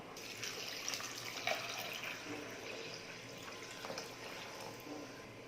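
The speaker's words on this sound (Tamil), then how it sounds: "இப்போ பருப்புக்கு தேவையான அளவுக்கு தண்ணி ஊற்றிக்கலாம்." Water pours steadily into a pot of lentils, a soft continuous splashing and trickling heard close up, with a few small clinks.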